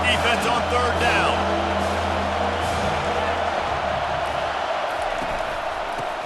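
A dense stadium crowd roars steadily in EA Sports College Football 25, cheering on the defense on third down, loud and continuous with a commentator talking over it at the start.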